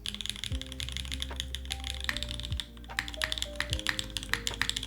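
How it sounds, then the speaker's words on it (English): Mechanical keyboard fitted with Cream Plus switches being typed on, a rapid irregular stream of crisp clacks and taps up close, with a slight lull midway and no talking. "you really want to hear a little bit of that natural kind of like keyboard scratch"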